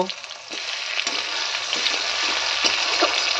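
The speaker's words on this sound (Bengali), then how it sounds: "এখন টমেটো আর পেঁয়াজগুলোকে ভালো করে নাড়াচাড়া দিয়ে ভেজে নেবে" Chopped onions and tomatoes sizzle in hot oil in a pan, a continuous close frying hiss broken by occasional stirring scrapes, with no voices.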